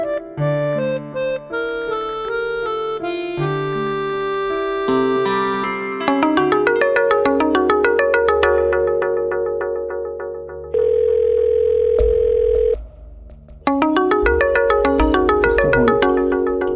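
A mobile phone ringtone plays loud and close, a repeating electronic melody of bright tones and beats that keeps going for many seconds, with brief gaps between phrases.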